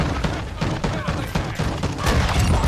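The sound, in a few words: sniper rifle shot in a shooter video game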